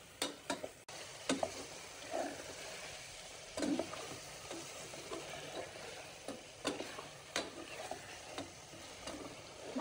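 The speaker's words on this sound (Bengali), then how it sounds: "আমি একটু এখন মশলাগুলো সব মিক্সড করে নিচ্ছি।" Spices being stirred into beef in a cooking pan, with soft scraping and sizzling across the whole stretch and scattered louder clinks and taps. No one speaks.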